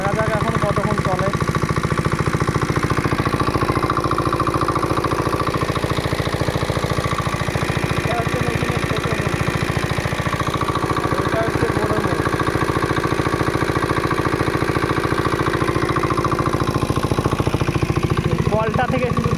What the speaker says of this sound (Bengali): এই মুহূর্তে মেশিনটা স্টার্ট দিলাম, দেখা যাক এখন কতক্ষণ চলে।